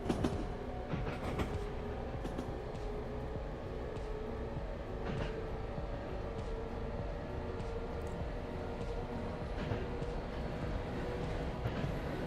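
A train runs steadily on a high-speed line, with a continuous low rumble and faint rhythmic rail clicks heard from onboard at moderate volume.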